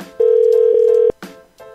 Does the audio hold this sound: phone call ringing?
yes